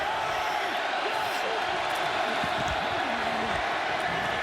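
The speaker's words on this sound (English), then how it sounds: "Crowd gets loud on 3rd down." A football stadium crowd roars steadily on third down at a Tampa Bay Vipers vs Seattle Dragons game, a dense, constant wash of many voices with scattered shouts rising from it.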